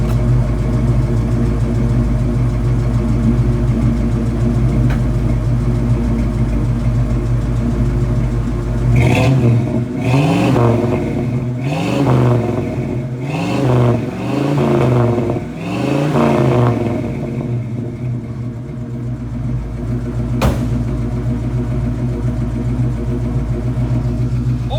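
A restored 1971 Ford Bronco's engine idles with a steady rumble, then revs sharply several times in quick succession before settling back to idle, close and loud with no voices.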